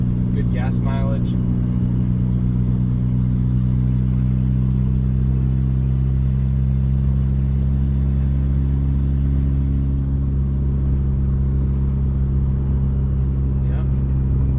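Turbocharged Honda Accord CD5 engine cruising, a steady low droning hum with constant loud rumble and little change in pitch throughout.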